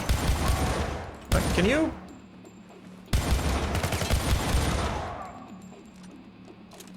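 Rapid automatic gunfire in the video game Syndicate rattles loudly in two long, dense bursts with a brief gap, while a player speaks briefly over the shooting.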